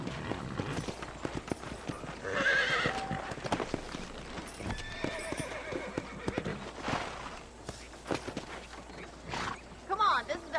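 In the video game Red Dead Redemption, a horse whinnies and its hooves clip-clop at a steady pace, heard under a game-world ambience with voices talking.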